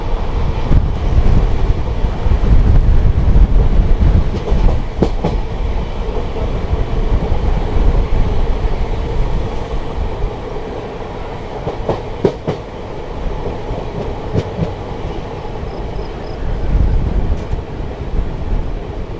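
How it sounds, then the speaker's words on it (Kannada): Vishwamanava Express passenger train running into Haveri station, a loud rumble with rhythmic wheel clatter and wind buffeting the microphone, gradually easing as it slows. "ಈಗ ನಮ್ಮ ವಿಶ್ವ ಮಾನವ ಎಕ್ಸ್ಪ್ರೆಸ್ ಬಂದುಬಿಟ್ಟಿದೆ ಎಸ್ ಎಮ್ ಎಮ್ ಹಾವೇರಿ ಸ್ಟೇಷನ್ಗೆ"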